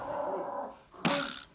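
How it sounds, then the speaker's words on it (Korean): A guard-type dog in a grooming salon reacts to arriving visitors with a low, rumbling growl that swells into a sudden loud, sharp bark close by. "제작진이 미용실에 들어서자마자 짖기 시작하는 녀석."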